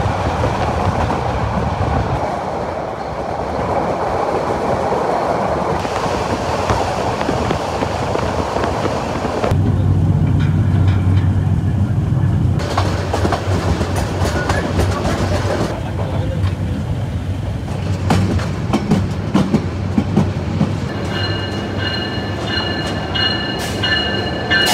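The Parjatak Express from Dhaka runs on rails toward Chattogram, a loud continuous rumble of wheels and carriages with clickety-clack rhythm and shifting tones as sections pass, some squeal near the end.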